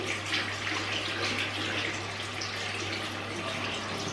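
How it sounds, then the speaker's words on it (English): Steady running water from a tap splashes over a skincare face brush detached from its handle as it is rinsed, a close, even hiss and splatter continuing without pause and with no talking. "I switch this off, take off the brush and rinse it off thoroughly."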